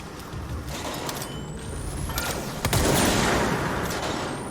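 Gunfire from the service weapon in the video game Control, a gun holding two rounds before it recharges, cracks in a few sharp bursts over a rumbling game background, the last burst loudest and trailing into a lingering roar.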